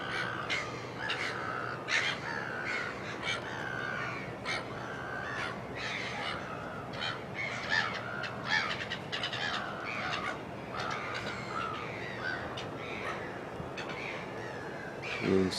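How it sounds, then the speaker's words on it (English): Seagulls on a Cape Town morning at a harbour give repeated loud, harsh calls that overlap continuously over a soft background wash. "Seagulls, of course, making a hell of a noise."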